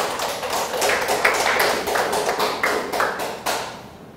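During a Sunday church worship service, the congregation claps in a series of sharp, separate hand claps at a moderate, uneven pace, close and fairly loud, with no voices over them.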